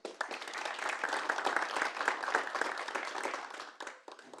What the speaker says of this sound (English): So we start with a round of applause for Egill.